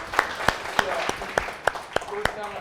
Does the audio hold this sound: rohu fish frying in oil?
no